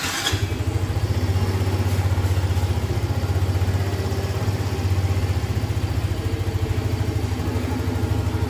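A Yamaha Mio motorcycle starts with a brief crank burst, then settles into a close, steady rattling idle with an even fast putter throughout.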